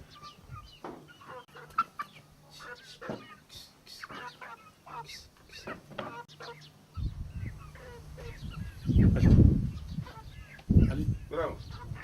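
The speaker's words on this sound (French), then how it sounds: "les coqs raceurs comme on dit." Roosters and chickens at a poultry farm cluck in scattered bursts, with a louder flurry of fowl calls near the end, while people talk in the background throughout.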